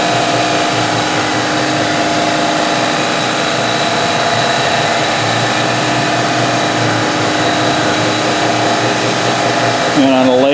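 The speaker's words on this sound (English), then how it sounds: "there goes the air compressor again. Keeps my tank at 90 psi to 120." An air compressor runs continuously in a machining workshop, cycling to hold its tank between 90 and 120 psi, producing a loud, steady droning hum with a brief change near the end.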